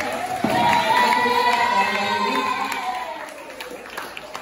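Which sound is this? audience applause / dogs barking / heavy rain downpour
audience applause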